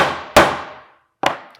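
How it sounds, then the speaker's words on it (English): A hammer striking a nail into a wooden planter box, three sharp ringing blows, the first loud with a long decaying ring, then two quicker hits close together after a pause. "let's go ahead and hammer it off"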